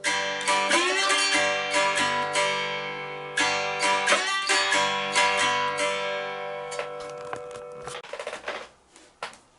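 A cigar box guitar is strummed with fingers and a slide across a one-chord bar. Bright, ringing string chords decay between repeated strums, heard up close with no talking.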